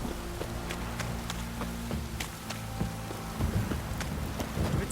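A downpour in The Witcher 3: Wild Hunt hisses steadily, with sharper drops pattering close by, a low hum and a few thudding steps underneath.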